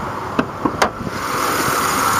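A 2005 Chevrolet Impala's 3.4-liter V6 idles under an open hood, giving a steady, smooth hum with a few light clicks near the start and no talking.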